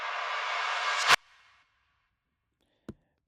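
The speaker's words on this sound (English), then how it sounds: "now I have this clap sweep thing happening amidst our transition effects" Reversed clap sweep used as a transition effect in an organic house track: a bright noisy wash swells steadily for about a second, then cuts off abruptly, leaving a faint tail and two short sharp hits near the end.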